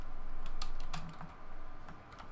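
Keys on a computer keyboard are tapped in a quick, soft, irregular patter for a couple of seconds, close and quiet.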